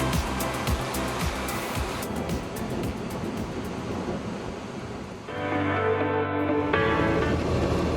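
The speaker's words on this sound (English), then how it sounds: "This spot had some great surf" Ocean surf on the South African coast at a windsurfing spot, a broad steady wash of waves mixed with wind, joined partway through by a steady droning hum.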